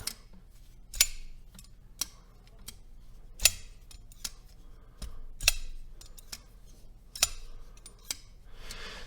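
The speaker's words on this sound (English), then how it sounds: "Really cool sounds when you hold the button down and just let it drop and bounce" Blade of a Kizer Cormorant XL folding knife released and dropping shut, several sharp metallic clicks and snaps at uneven intervals, close and crisp over a quiet background.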